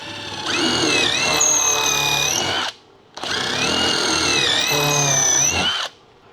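Power drill boring pilot holes into wood in a carpentry workshop: two loud, close, sustained bursts of high motor whine, each about two and a half seconds long, separated by a brief pause.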